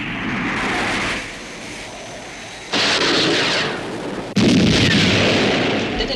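A missile firing and detonating as a 1970 television science-fiction sound effect: a rushing roar that shifts in stages, closing with a louder burst of blast-like noise.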